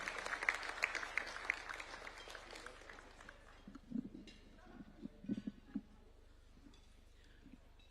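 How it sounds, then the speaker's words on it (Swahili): An audience at a State House ceremony for the UEFA Champions League trophy applauds a dignitary. Dense clapping is heard for the first few seconds, then it fades into scattered claps and faint voices. "Tumukaribishe kwa makofi."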